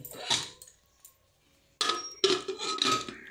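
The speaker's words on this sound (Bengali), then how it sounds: "এবার আমি এটাকে ঢাকনাটা বন্ধ করে দেবো দিয়ে।" Lid placed on a pot of washed rice in a home kitchen, a couple of light metallic clinks and scrapes, close and quiet, separated by a short silent gap.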